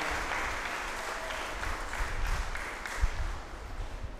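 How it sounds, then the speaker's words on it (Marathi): A congregation claps warmly for the children at a First Holy Communion church service, a dense, even round of applause that rises slightly midway and holds to the end. "आपण सर्वजण टाळ्या वाजवून आपल्या मुलांचं हार्दिक अभिनंदन करूया."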